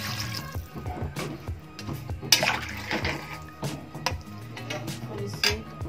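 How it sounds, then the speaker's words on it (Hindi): Water poured into a pan of spiced drumstick curry with cumin and coriander, a splashing, gurgling pour with clinks of the pan and spoon, close and moderately loud throughout. "पानी डाल दे रही हूँ इसमें।"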